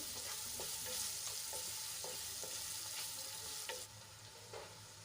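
Finely chopped onions sauté in hot oil, giving a steady close sizzle broken by regular scraping strokes of a spoon, then settling to a softer hiss near the end, with no talking.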